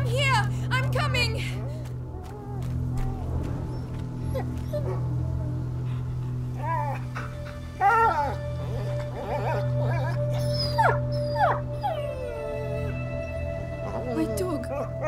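A dog whimpers and yelps in the video game A Plague Tale: Innocence, with high plaintive cries scattered through the scene over a steady low hum, while people talk.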